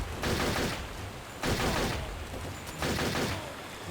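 Mag 60 fire in the video game Turok 3, three loud sustained bursts of rapid gunfire, each about a second long with short gaps between them.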